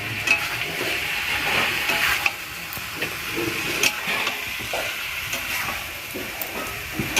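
Chicken pieces fry in a hot pan for a curry with capsicum and spices, giving a loud, steady sizzle and hiss broken by scraping stir strokes, up close with no talking.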